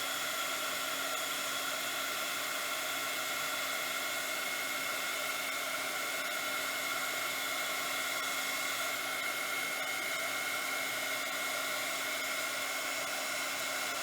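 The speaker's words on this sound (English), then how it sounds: "Let your machine get hot, and then just emboss." A heat embossing tool blows hot air onto embossing powder in a steady, even whoosh that runs continuously throughout, fairly quiet and close.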